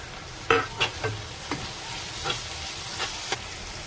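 Tomatoes go into fried onions with chilli and cumin in a pan for a cabbage dish, followed by several soft, scattered stirring scrapes and clinks over a faint background sizzle, with no talk.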